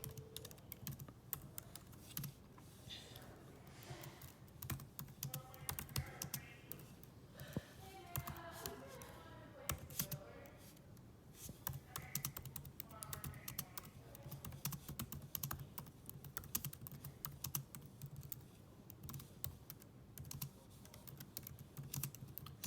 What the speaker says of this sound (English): I'm typing with one hand, recording with the other.